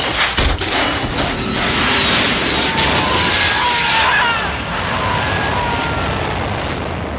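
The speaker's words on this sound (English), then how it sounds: "Step three, pull the ejector seat handle." A jet ejector seat fires in Hitman 3, opening with a sharp loud crack, then a sustained roaring rush of jet and wind noise that stays strong and slowly fades and thins toward the end.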